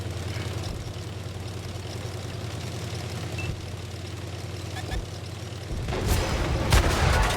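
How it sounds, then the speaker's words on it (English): Low engine rumble of a tank in a World of Tanks style game with a muffled boom partway through, followed by sharper bursts of artillery impacts near the end. "Oh, artillery's on me."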